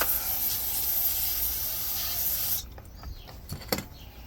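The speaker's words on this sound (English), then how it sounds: "We'll just spray it." A spray nozzle blasts onto a Power Horse / Predator 3500 generator engine part in a steady, close, broadband hiss for about two and a half seconds before cutting off, leaving faint clicks and handling noises.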